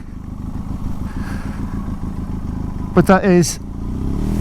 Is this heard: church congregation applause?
no